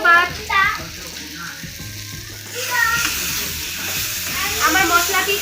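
Spice paste frying in oil for an egg and potato curry, a steady close sizzle with stirring scrapes and brief pauses, with faint voices in the background.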